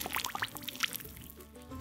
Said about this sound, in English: I don't know if you can hear this, but it's bubbling up.